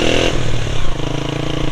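Motorcycle engine revving on a ride toward a bridge near Makli Necropolis, Thatta, a loud close growl that rises and shifts pitch, with some clatter and wind noise.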